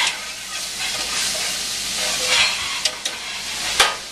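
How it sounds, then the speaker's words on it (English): Crumbled ground meat, a three-meat mix with celery, carrot and onion, frying in a pan for bolognese sauce, giving a steady close sizzle and hiss with a few sharp clicks of stirring near the end. "You can see this starting to look like just crumbled beef or crumbled meat in the bottom of the pan."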